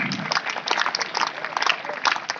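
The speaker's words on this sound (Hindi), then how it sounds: "जोरदार तालियों से स्वागत करिए" Audience at a traffic awareness programme in Sonebhadra clapping to welcome guests, a dense continuous burst of many hands, moderately loud and alone.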